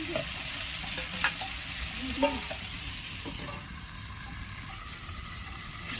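Potatoes fry in oil in a pan for a pointed gourd curry, a soft steady sizzle with a few clinks and scrapes of stirring early on, close and without speech.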